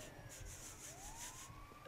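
Police siren in the video game GTA Online, a faint wailing tone that rises and falls behind rough rumbling engine and road noise.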